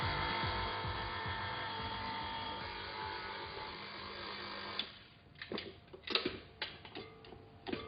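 A stand mixer kneading Italian focaccia bread dough, a steady whirring, ticking motor hum that stops partway, followed by scattered clunks and handling noises.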